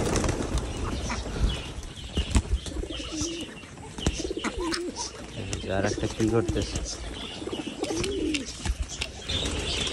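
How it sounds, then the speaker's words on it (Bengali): Newly arrived house pigeons in a village home coo softly while being fed, low repeated murmurs mixed with a few chirps and wing flutters, heard under someone talking. "এই ঘরের কবুতরগুলোরে একটু খাবার দিই।"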